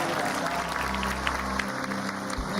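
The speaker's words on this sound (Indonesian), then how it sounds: "Tepuk tangan buat Pak." Applause from a small crowd gathered at a house during a comedic visit, a continuous noisy patter of clapping for a couple of seconds with faint low rumbles beneath.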